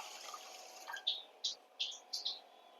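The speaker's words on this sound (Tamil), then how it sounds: "இப்போ தண்ணி சேர்த்துக்கலாம்." Water poured from above onto soaking millet and fenugreek, a faint trickle followed by several short splashy pours, quiet and close.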